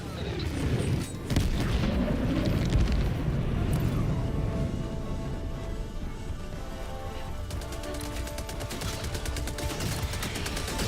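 Mortar fire and explosions in the Helldivers video game, dense booming blasts and rattling bursts of gunfire, loud and chaotic, continuous throughout.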